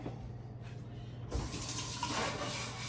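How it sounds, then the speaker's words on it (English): Kitchen sink tap running for a rinse, a low trickle that suddenly opens into a strong, steady rush of water splashing into the basin nearby. "rinse out all the stuff in this side of the sink"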